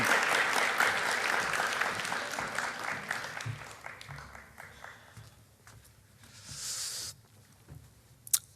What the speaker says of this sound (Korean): 우리 고찬호 전사님 올라오실 때 따뜻한 박수로 환영해 주시면 감사하겠습니다